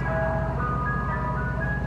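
Mr. Softee ice cream truck chiming its tinkling jingle melody continuously, with a low idling engine rumble beneath and no voices.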